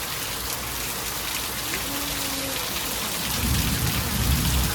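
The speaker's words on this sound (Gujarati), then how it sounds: "આજ તો પાટણમાં વરસાદે પોણી પોણી કરી નાખ્યું" Heavy night rain pours down in Patan during a thunderstorm, a continuous loud roar that swells toward the end with a low rumble beneath it.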